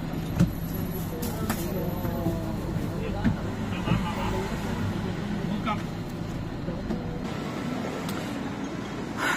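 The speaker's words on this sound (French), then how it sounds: "Là, on est dans le bus vert" Inside a green minibus in Hong Kong there is a continuous low engine rumble and road noise, with irregular clunks and rattles as the vehicle moves, and people talking over it.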